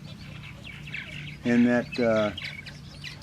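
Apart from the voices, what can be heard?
purple martins at a gourd rack colony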